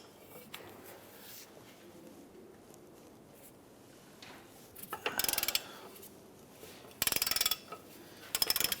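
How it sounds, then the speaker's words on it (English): Socket ratchet with a short extension loosening rear hub bolts on a 2009-2015 Honda Pilot, heard as rapid clicking bursts of the pawl in a few short runs near the end, with faint mechanical handling before them. "I'm going to go ahead and use our socket, get that on in there with a little extension and our ratchet"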